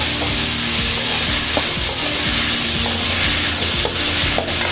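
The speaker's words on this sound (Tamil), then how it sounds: "நம்ம காராமணி குழம்புக்கு கத்திரிக்காயும் போட்டு நல்லா வதக்கி வச்சுருவோம்." Brinjal pieces sauté in hot oil in a pan for a kaaramani gravy, a loud steady sizzle with repeated scraping strokes of a ladle stirring at close range.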